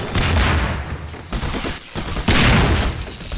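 Gunshots blast objects apart in Half-Life 2 Episode 1, heavy repeated bursts of loud firing and crashing spread across a few seconds.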